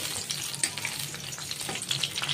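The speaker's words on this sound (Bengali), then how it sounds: "আমটা সেদ্ধ হয়ে গেছে, একটু নেড়ে চেড়ে নেব" Boiled mango pieces being stirred in a pan for chutney, giving soft scraping and light sizzling with irregular stirring strokes, close and fairly quiet.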